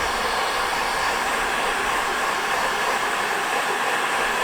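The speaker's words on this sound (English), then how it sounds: "I'm just going to use a heat gun gently to heat up the adhesive behind this." A heat gun blows steadily to warm the adhesive behind a badge on a Mercedes CLK, a constant loud whooshing roar held for several seconds without pause, close by and with no talking.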